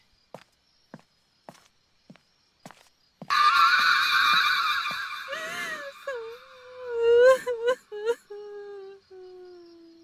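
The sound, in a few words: sound effect of someone crying in pain, horror story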